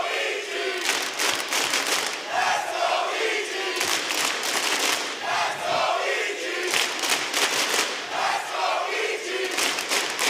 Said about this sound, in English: The crowd has woken up, and EG already stretching their lead.